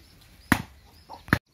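A caged chicken gives two short, abrupt clucks separated by a brief pause, heard fairly close over a quiet background.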